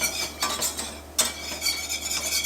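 Steady scraping and light metallic taps as a spoon stirs a thick flour mixture for queso in a pan, close and rhythmic, with a faint background hum and no talk.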